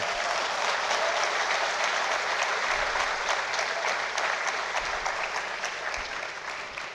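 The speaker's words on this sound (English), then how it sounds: "Can we have a loud applause for them as well?" Loud, sustained applause from a large audience at the IIT Kharagpur Foundation Day ceremony, a steady wash of many hands clapping with no break or speech for the whole stretch.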